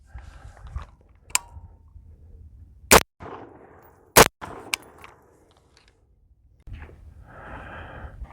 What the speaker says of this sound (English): We'll put 2 rounds through the rifle, through the left board, and see if it provides any cover.